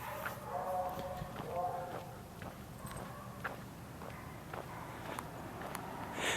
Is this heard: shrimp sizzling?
no